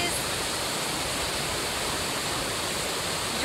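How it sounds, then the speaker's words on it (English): Long Creek Falls in Georgia pours in a steady, close rush of broadband water noise, continuous and even with no break. "We're at the waterfall."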